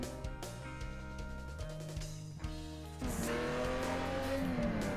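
A Lamborghini Veneno in the Need For Speed No Limits racing game drifts with a loud, continuous engine drone and shifting revs. A brief squeal cuts in partway, and a harsher, louder roar of engine and tires takes over for the final seconds.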